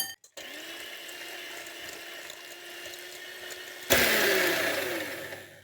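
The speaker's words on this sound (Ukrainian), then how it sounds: "Збивати буду міксером." Electric hand mixer whirring at a steady pitch in a bowl of eggs, preceded by a short click, then jumping to a louder, rougher beating sound near the end.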